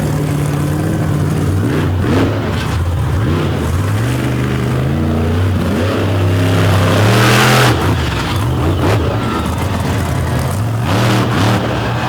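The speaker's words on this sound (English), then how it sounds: "Darrow working the track super fast with that fuel-injected Richard Midget 540 cubic inch Chevrolet engine." A fuel-injected 540 cubic inch Chevrolet midget race car engine screams around a track, its pitch rising and falling through repeated revs and gear changes, loud and close, with a brief roaring peak midway.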